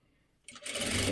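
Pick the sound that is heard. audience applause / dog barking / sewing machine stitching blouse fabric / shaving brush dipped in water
sewing machine stitching blouse fabric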